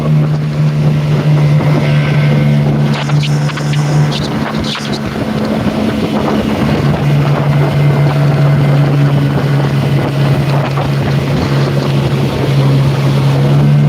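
A Hydro Lab Boxer 410 aluminium boat with a Yamaha outboard cruises along, a loud steady engine drone with wind buffeting the microphone throughout.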